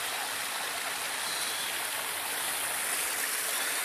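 Water circulating through hidden filters spills steadily back into a garden pond, a constant close rushing and splashing like a small stream or waterfall, with no talk.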